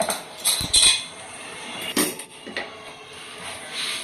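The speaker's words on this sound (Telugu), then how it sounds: "చూడండి మిరపకాయలు చల్లారిపోయినా ఇలా సౌండ్ వస్తున్నాయి చూసారు కదా" Cooled dry-roasted red chillies rattling and clinking in a pan, a few crisp scattered bursts of brittle tapping at moderate volume with quieter gaps between them.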